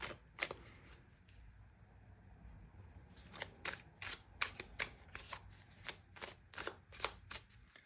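Tarot cards being shuffled and drawn, a run of soft riffling and sharp card slaps in an irregular rhythm, close and fairly quiet with no talk.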